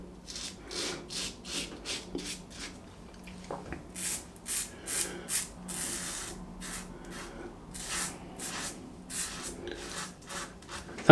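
A smooth razor blade is drawn across stubble in a run of short, close scraping strokes, a rhythmic rasping rub repeated steadily with brief gaps between passes and no talking.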